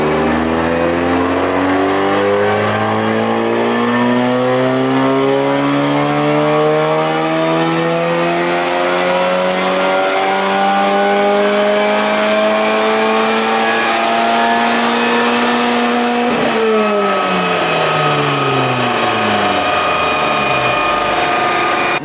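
A tuned car engine on a dynamometer revs steadily upward for about sixteen seconds, then drops off sharply and winds down, loud and close with no talking.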